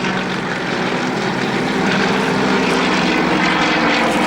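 Aerostars display aircraft at the Cosford air show power up to climb, their propeller engines giving a loud, continuous droning roar that swells slightly as they go.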